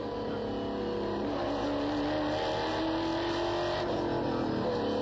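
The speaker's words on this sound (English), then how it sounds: "On board with Scott McLaughlin on the limiter in second gear to turn five" Scott McLaughlin's NZV8 race car at Ruapuna Park screams steadily against its rev limiter in second gear, heard loud and continuous from on board, with a sustained high engine drone that shifts pitch slightly near the end.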